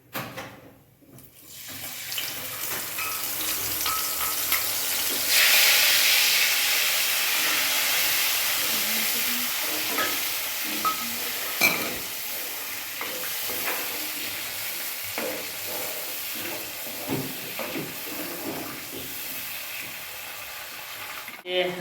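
Ginger garlic paste sizzles in hot oil in a pan while aloo puri is being cooked, a steady frying hiss that swells partway through, with stirring clinks and faint kitchen clatter and no talking.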